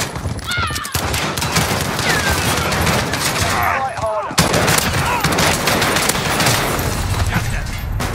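Gunfire rattles through a Call of Duty Modern Warfare match in dense, rapid bursts, loud and nearly continuous with brief gaps, and a few voices break in over the shooting.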